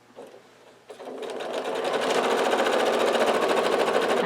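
A sewing machine stitches quilt blocks for a queen-size quilt, starting with a few quiet clicks and then running at a fast, steady whirr that builds and holds, close and loud.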